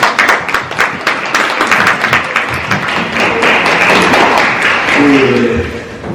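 A church congregation applauds in celebration at a Sunday Advent service, a dense burst of clapping from many hands that swells and holds, then thins as a voice begins speaking near the end.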